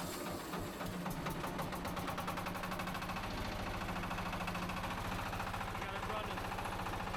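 A Chinese car engine idles steadily after starting, a low rhythmic knocking rumble that holds nearly constant throughout, with a faint voice at times underneath.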